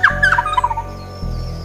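A resplendent quetzal's rolling churr call with a few sharp chirps, fairly close and clear over a low steady hum.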